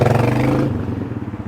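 A CFMOTO 950 Sport 4 UTV on 32-inch Maxxis tyres and factory beadlock wheels drones loudly and close, its engine note steady, then easing slightly as it pulls away with some clatter.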